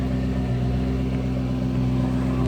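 A 2010 Ford Mustang GT500 with a factory Ford Racing performance exhaust idles steadily nearby, a deep, even rumble holding constant for a couple of seconds with no talk over it.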